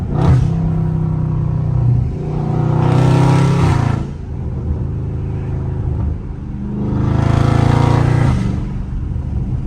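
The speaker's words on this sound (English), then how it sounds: "I just love them upshifts, bro. My upshift sounds so good." A loud Dodge Scat Pack roars at full throttle, the engine note climbing steadily before dropping at each upshift, with two strong acceleration pulls heard up close and no talking.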